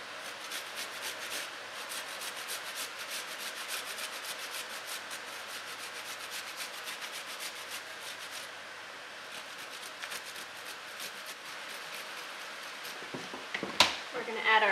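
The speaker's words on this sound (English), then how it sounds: "So next we want to take the ginger and we're going to grate that over" Fresh ginger is grated by hand over egg roll filling, a quiet, rapid, steady scraping rhythm that continues for a long stretch before ending with a few louder knocks and handling sounds.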